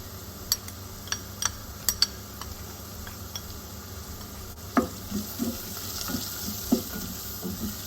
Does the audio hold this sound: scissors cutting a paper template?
no